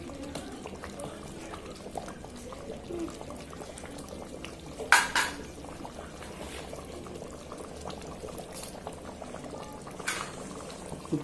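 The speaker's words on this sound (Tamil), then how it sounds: "பாருங்க, அருமையாக கொதிக்குதுங்க" A pot of biryani-style food bubbles and simmers steadily at close range, with a soft continuous gurgle, a couple of brief clinks, and faint voices in the background.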